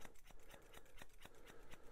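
Straight grooming scissors snip steadily through a dog's hock fur, a fast even run of crisp metallic cuts close to the ear with no talking.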